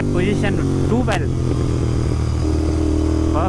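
A 2023 Royal Enfield Continental GT650 twin-cylinder motorcycle engine drones loud and close underneath a rider talking throughout, steady at first with a brief rise in pitch near the start.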